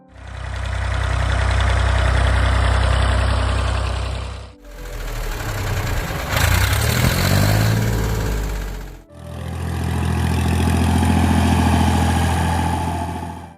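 A Massey Ferguson 135 tractor engine runs steadily in three long, loud stretches, a mid-pitched chugging drone with brief cuts between sections and no talk.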